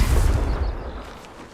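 Confringo fire spell blast in Hogwarts Legacy, a single deep booming explosion that hits hard at once and then rumbles away over about a second.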